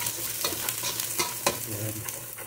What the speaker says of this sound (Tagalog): Tapos, sunod ko na agad ang ating minced garlic.